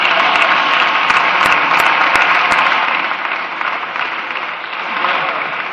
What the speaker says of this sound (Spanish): a una diputada aplaudiéndose a sí misma